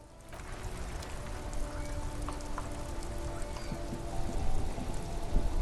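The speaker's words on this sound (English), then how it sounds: "This rain will not let up anytime soon" Rain falling in the Disco Elysium game world, a continuous patter of drops on surfaces that thickens and grows slightly louder toward the end, with faint low ambient hum beneath.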